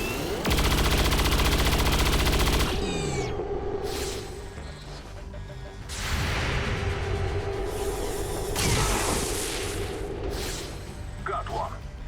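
Loud machine-gun fire in the video game XCOM 2, a sustained rattling burst up front followed by further shots, whooshes and impacts, with someone talking over parts of it.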